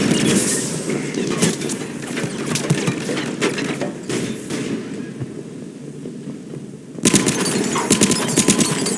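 Dense bursts of automatic gunfire in a firefight on Omega in Mass Effect 3, rapid overlapping shots filling the whole stretch, easing a little in the middle before a sharp, loud flurry returns near the end.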